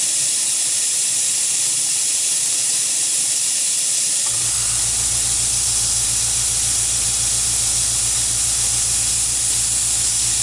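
A small 1-gallon compressor feeding a compressed air and coolant spray on a machine, a loud continuous hiss that gains a pulsing low mechanical throb partway through as the compressor kicks on.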